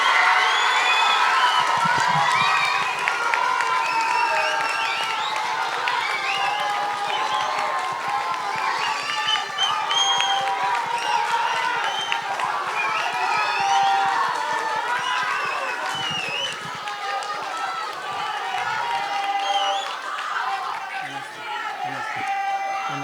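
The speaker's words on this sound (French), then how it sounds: "Vous pouvez les applaudir." An audience at a French stage performance about slavery claps for the teaching staff, with sustained loud applause mixed with cheering and crowd chatter throughout.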